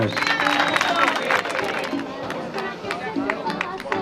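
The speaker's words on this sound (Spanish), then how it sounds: "Un aplauso muy fuerte para las chicas." Crowd at an outdoor women's rowing trophy presentation in Vigo claps for the winning Chapela crew, with scattered claps and cheers blending into steady chatter and background talk.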